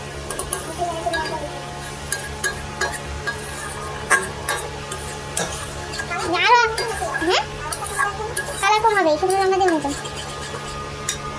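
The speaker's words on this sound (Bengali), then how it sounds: "কড়াইয়ের মধ্যে আলু ভাজা হচ্ছে" Potatoes frying in a wok, with clinks and scrapes as they are stirred over a soft sizzle, nearby voices in the background, and a few sharp clatters of the utensil against the pan.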